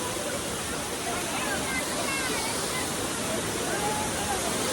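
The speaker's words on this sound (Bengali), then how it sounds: "আমরা পুরো ঝর্ণার নিচে বসে আছি।" Bamni waterfall in Purulia, heard from directly beneath the falling water: a loud, dense, unbroken roar fills the whole stretch, with faint voices buried in the rush.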